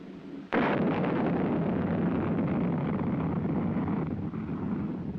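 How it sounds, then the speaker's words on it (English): A heavy missile's first-stage rocket motor ignites with a sudden loud blast, then settles into a sustained roaring rumble of thrust that holds steady for several seconds. "Following the initial thrust provided by ignition of the first stage rocket motor, the missile enters a coast period"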